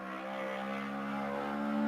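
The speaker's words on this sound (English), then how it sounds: "It has the best idle of any car in ACC." Lexus RC F GT3 race car in Assetto Corsa Competizione idling at Monza, a low, steady engine drone with strong even harmonics that swells slightly louder over two seconds, heard alone with no talk.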